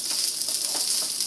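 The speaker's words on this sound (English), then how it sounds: "So I'm frying it now on low heat without adding any" Keema stuffing for Mughlai keema paratha frying in a pan over low heat with no water added, giving a steady close hiss and crackle of sizzling minced meat, with no voices.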